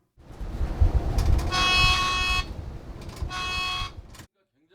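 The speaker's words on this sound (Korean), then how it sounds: "버스가 우회전할 때 보행자를 인식한 AI 감지 카메라가 즉시 경보음을 내고" Bus-mounted AI pedestrian-detection camera sounding its warning as the bus turns right, two loud sustained electronic beep bursts over engine and road rumble inside the bus.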